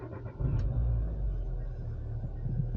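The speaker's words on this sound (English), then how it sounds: "it does sound like it's running a little bit better, and it's got no problems finding idle at the moment" A cheap used car's engine idles steadily after a battery change, a close, low rumble that starts up with a brief rise and then holds an even idle, with no voices.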